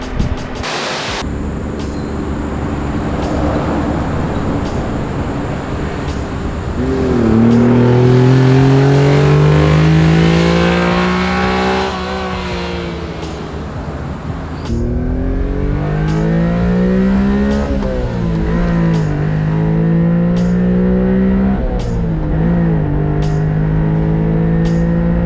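Honda Beat kei car driving, its small engine revving loudly up through the gears with rising and falling pitch, shifting repeatedly, close and continuous with no talk.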